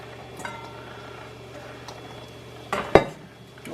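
Noodles being stirred with soy sauce in a pan, quiet scraping and a few sharp clinks of utensil against metal near the end, close and alone against a soft background hum.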